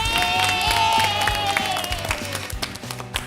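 Applause and cheering from an audience at a kids' science show, strong at first and then thinning into scattered claps, with music playing underneath.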